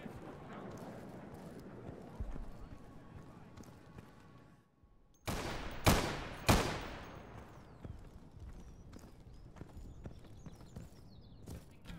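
Two sharp, loud gunshots crack close together in a bloody courtyard in the Insurgency co-op mod, standing out over a steady background of ambient game noise and faint footsteps.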